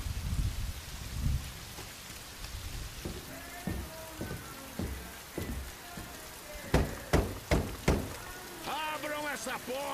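Heavy rain falls steadily outdoors with scattered sharp drips and knocks, and a voice is heard briefly near the end.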